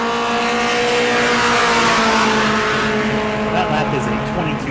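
Four-cylinder Red Eye mod race car lapping New Smyrna Speedway in qualifying, a loud, close, buzzing engine drone with a steady pitch and a brief tire squeal near the end.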